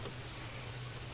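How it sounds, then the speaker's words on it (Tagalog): Steady rain falls on a farm in the mountains. The hiss is even and continuous with no talking. "Kaso umulan ngayon."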